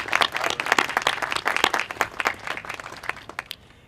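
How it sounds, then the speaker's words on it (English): A crowd at a recycle center ribbon cutting claps for elected officials, a burst of sharp, dense handclaps close by that thins out toward the end, with no talk. "If we could have everybody give a round of applause."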